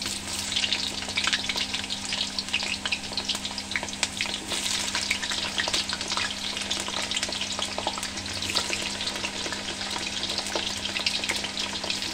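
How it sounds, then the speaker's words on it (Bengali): Potatoes frying in hot oil in a wok, a steady dense sizzle with crackling spatter throughout, continuous and fairly close. "এখানে কড়াইয়ে তেলটা মোটামুটি গরম হয়ে গেছে, এবার আমি আলুগুলো ভেজে নেব।"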